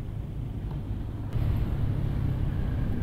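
Road traffic outside an ambulance stuck in a jam makes a steady low rumble of idling and slowly moving vehicles that grows a little louder partway through.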